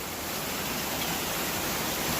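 A waterfall in a mountain creek pours with a constant, close, full-bodied rush of water that never changes.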